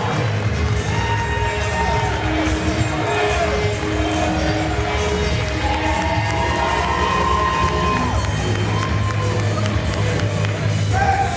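A wrestling crowd at a live independent show cheers and whoops after a match, a sustained roar of voices with shouts and whistles rising above it, while a commentator talks over the noise.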